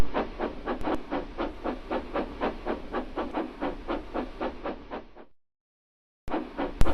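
Rhythmic chuffing of a steam locomotive puffing away, regular strong beats close by, then a sudden cut to silence before the sound briefly resumes.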